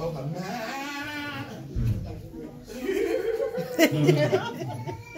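A voice imitates goats and sheep bleating, wavering cries mixed with speech and a chuckle, close and loud, at a sermon.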